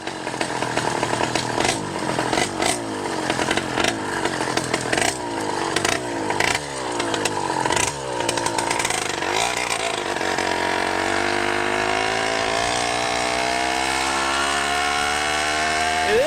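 A small 100cc motorized bicycle engine with a 49mm iron sleeve buzzes loudly nearby, revving in rapid bursts and then whining steadily as it speeds up.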